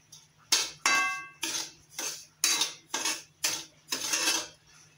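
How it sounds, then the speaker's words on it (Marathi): Semolina roasting in a spoonful of oil in a pan for upma, stirred with a metal spoon: about eight distinct scraping, clinking strokes in steady rhythm, close and clear, with no talk. "त्यामध्ये 1 चमचा तेल घालून असा चांगला व्यवस्थित भाजून घ्यायचा।"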